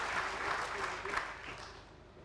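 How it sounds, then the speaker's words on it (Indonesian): A studio audience claps at a televised Papua-themed talk show, a dense, steady wash of applause that holds fairly loud and then eases slightly toward the end, with no talking over it. "Kita kasih tepuk tangan"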